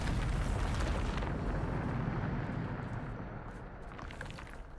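In Hogwarts Legacy, a Bombarda spell explosion lets out a heavy, rumbling blast. It is loud at first and slowly fades into a lingering roar with scattered debris crackles.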